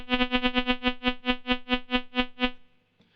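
Modular synthesizer with an envelope on the filter and the VCA switching on and off, giving a rapid string of short buzzy pulses that gradually slow down before stopping, close and alone.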